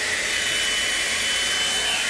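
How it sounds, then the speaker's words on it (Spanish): Steady, loud whirring of a hot-air brush dryer running continuously while drying hair, with no break and no talk over it. "voy a usar este cepillo que me gusta mucho para secarme el cabello"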